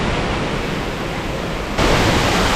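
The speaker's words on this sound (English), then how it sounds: "We have made it to Marymere Falls." Marymere Falls, a waterfall on an Olympic hiking trail, gives a dense, steady roar of rushing water up close that suddenly grows louder partway through, with no voices.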